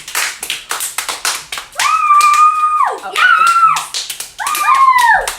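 Kids staging a superhero-turned-villain skit get a quick burst of sharp, close hand claps, followed by high, wavering whine-like tones and a brief spoken reply.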